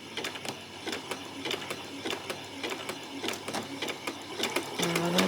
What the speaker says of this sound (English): Okay, and do a back stitch.